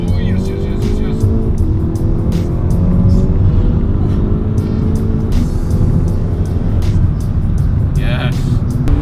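Revo stage 3 tuned VW Golf MK6 GTI under full throttle, the engine note climbing loudly and continuously through the revs, with a voice talking over it.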